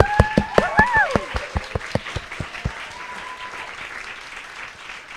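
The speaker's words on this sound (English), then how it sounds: "round of applause for everyone who got up here and pitched" An event audience gives a short burst of applause after a series of idea pitches: loud, rhythmic clapping up close that thins out after a few seconds, with a whistle and crowd noise over it.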